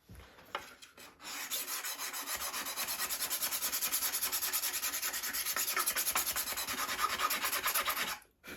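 Hand sanding of resin and Super-Fil on the wing of a Top Flite .60 size Gold Edition P-40E Warhawk model airplane: a steady, close, continuous rasping scrub of back-and-forth strokes lasting several seconds, with no talking.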